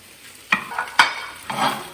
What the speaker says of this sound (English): Time to incorporate the rice.